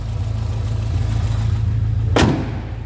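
A 1980 Ford Escort Ghia idling just after a cold start, a low steady engine rumble, with a sharp clack or bang near the end.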